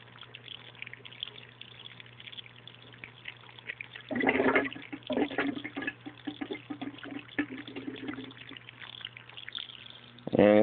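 A small aquaponic grow bed's siphon drains down a pipe with a gurgling, flushing rush that sounds like a toilet, starting after a quiet stretch with a low hum and swelling in uneven surges.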